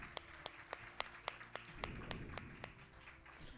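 A church congregation applauds during a family service, a steady spread of clapping with a few sharper slaps standing out, quiet and moderately distant.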